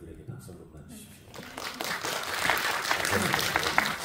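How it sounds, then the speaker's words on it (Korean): A press conference audience applauds the actors, swelling from faint scattered claps into steady, moderately loud clapping that fills the room. "우리 배우들에게 박수 한 번만 주십시오."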